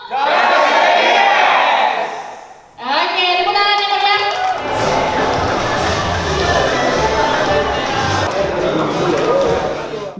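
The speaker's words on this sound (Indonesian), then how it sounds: "Mohon tepuk tangannya dulu untuk tim Wapa Uma Sidemen" An audience claps and cheers for a team at an anniversary blood-donation event, with sustained loud applause and crowd noise rising right after someone speaks over a sound system.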